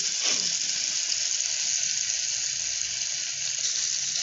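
Slices of yam dipped in tamarind water sizzle on a hot tawa, a loud, even hiss that flares at first and then holds steady close up.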